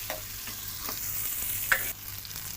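Two medium onions frying in a kadhai toward golden brown give a steady close sizzle, broken by a few scraping stirs of a spoon against the pan and one sharp clink. No voices.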